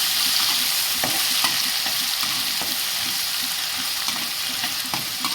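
Ginger garlic paste fries in a pan with a steady, fairly loud sizzle, while a utensil scrapes and stirs it in repeated strokes, with no voices.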